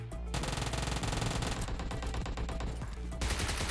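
Sustained automatic gunfire in the video game PUBG Mobile, a rapid unbroken burst of shots lasting several seconds, loud and dense with a brief gap near the start.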